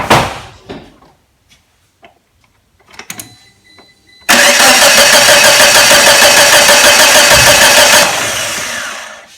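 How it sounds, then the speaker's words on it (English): A Geo Tracker with a previous no-spark fault sits quiet apart from a few small clicks and knocks. Then its engine cranks and catches, roaring loud and close and running steadily, easing slightly toward the end. "I'm just going to crank this and see if there's spark"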